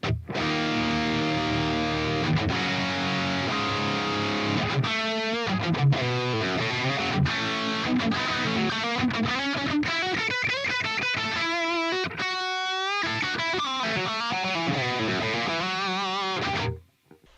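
Electric guitar played through the Amped Flagship amplifier on its startup preset, a loud distorted tone with chords and single-note lines ringing out continuously for about seventeen seconds before stopping abruptly.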